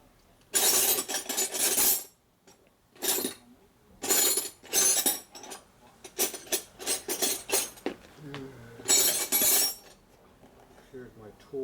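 Metal tools clink and clatter in bursts as someone digs through a tool bucket during a Harley shovelhead FLH transmission kicker install, with loud rattling handfuls separated by short pauses.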